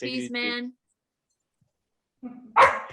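A pet dog lets out a short burst of loud barking near the end, right after a pause in conversation, with people talking just before it.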